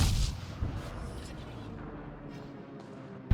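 Ship guns of a Cleveland cruiser in a naval video game firing at a surfaced enemy submarine: a heavy boom at the start rolls into a long, fading rumble, with another sharp report at the very end.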